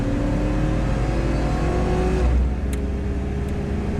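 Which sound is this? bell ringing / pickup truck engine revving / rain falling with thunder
pickup truck engine revving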